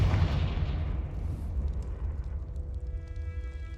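A Confringo blasting spell explodes in Hogwarts Legacy, a loud booming burst at the start that rolls off into a long, fading rumble with faint tonal game sounds underneath.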